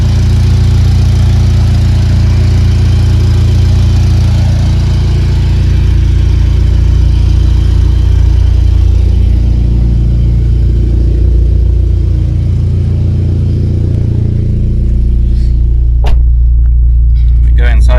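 A turbocharged VTEC Honda Civic engine idles steadily and loudly up close, a constant low rumble that stays even for the whole stretch, with no talk over it.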